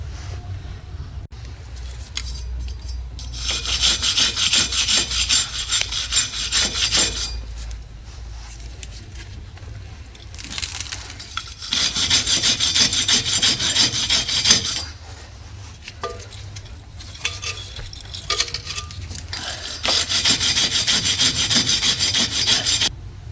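Repeated bursts of harsh rubbing and rasping scrape rust and debris from a Subaru wheel hub during a brake job. Long scrubbing strokes come close and loud, separated by short pauses, with no talk.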